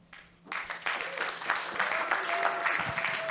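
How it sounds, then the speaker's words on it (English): Applause from a conference audience at Cluecon 2018, a telecom developer event, rising sharply after a brief quiet start and holding steady as a dense wash of clapping. "Big round of applause for Cluecon and Brian."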